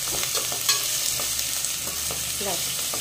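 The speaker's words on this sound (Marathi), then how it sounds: "आता गॅस मोठा करायचा, कांदा छान परतून घ्यायचा आपल्याला" Sliced onions sautéing in a pan over high gas, a dense steady sizzle with scattered stirring scrapes and spatula taps, close up and without speech.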